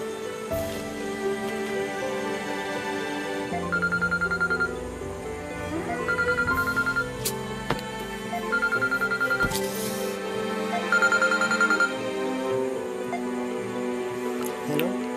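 A telephone rings on an outgoing call, with a repeating ringtone pattern sounding in four evenly spaced bursts over a steady, busy tonal background.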